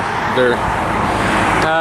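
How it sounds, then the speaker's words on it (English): Road traffic on US Route 72 beside a railroad crossing in Pride, Alabama, heard as a continuous hiss and rumble of passing vehicles, with someone speaking over it. "Apologies if you can't really hear me over any traffic noise."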